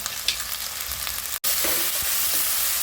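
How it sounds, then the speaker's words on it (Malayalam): Spinach (palak) sizzling and frying in a pan while being stirred. A steady broadband hiss runs through it, with a few scraping stirs and one brief dropout in the middle. "ഇതൊന്ന് ചെറുതായിട്ടൊന്ന് വഴറ്റുക"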